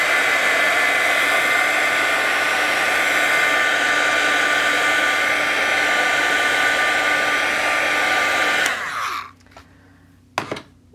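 A hair dryer blows steadily and loudly on wet acrylic paint for about nine seconds, then switches off, leaving near silence with a brief clunk afterward.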